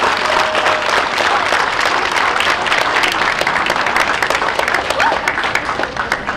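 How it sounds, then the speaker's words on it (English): A school audience applauds students and teachers presenting projects, with loud, dense clapping sustained across the whole stretch, fading a little near the end. "I want to give all the students and teachers a round of applause for doing such an awesome job."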